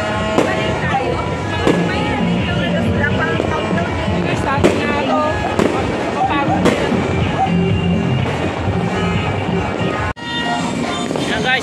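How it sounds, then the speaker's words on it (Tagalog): Fireworks going off at a distance, a string of sharp bangs and crackles spaced irregularly over continuous crowd noise and people talking. "nine fireworks dito"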